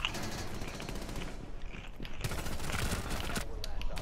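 Rapid automatic gunfire in a shooter video game rattles on steadily and loudly throughout, dense bursts of shots with faint voices underneath.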